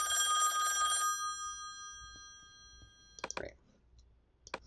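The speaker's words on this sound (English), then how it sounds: "our next cue is the phone ringing" A telephone bell rings once as a theater sound cue, a bright steady ring lasting about a second, followed by quiet room tone and a few sharp clicks.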